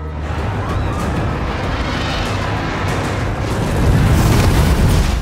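A special-effects fire blast staged on a television battle set for dragon fire, a loud, sustained roaring whoosh that swells and grows heavier toward the end, with no talking.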